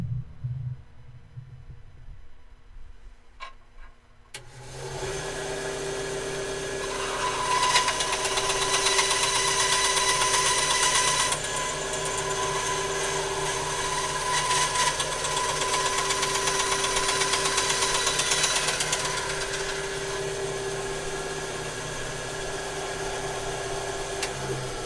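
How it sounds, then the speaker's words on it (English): Bandsaw cutting down a piece of material during a live build, starting after a few seconds of quiet and running steadily with a sustained mechanical whine and hum, loud and close, with no talking. "I think I can take most of that off with the bandsaw"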